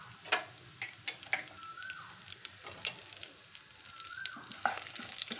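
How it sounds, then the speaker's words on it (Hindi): Cumin seeds and dry spices sizzle in warm oil for an egg and potato curry, a soft hiss broken by sharp crackling pops and a few stirring sounds, close and fairly quiet. "अब हमारा तेल हल्का हल्का गर्म हो गया है तो इसमें हम ऐड करेंगे जीरा और हमारे सूखे मसाले।"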